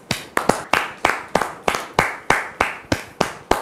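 Steady rhythmic clapping of a studio audience welcoming a guest onto a stage, sharp evenly spaced claps about three per second, close and loud with no talking.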